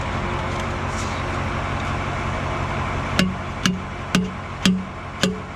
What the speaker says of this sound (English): Hammer works great.